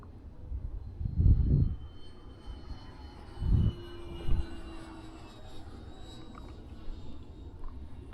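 An E-flite Habu XS 80mm electric ducted-fan RC jet makes a fast pass, a thin faint turbine whine drifting over low rumbling gusts and bumps, fairly distant.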